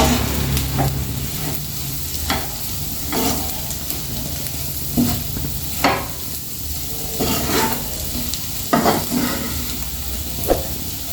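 Onion egg fry sizzling in a pan, stirred repeatedly with a spatula that scrapes in irregular bursts every second or two over a continuous close hiss of frying, no voices.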